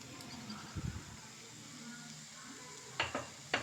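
Half a kilo of chicken marinated in turmeric goes into a hot pan. A faint, steady sizzle runs throughout, with a few soft clinks and scrapes near the start and near the end.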